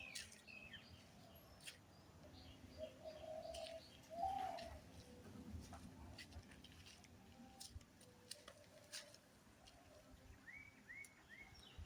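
Pet pigeons coo softly in low, rounded murmurs at close range, with a few chirps and small ticking sounds around them, the calls coming in loose bursts over a quiet room background with no clear speech.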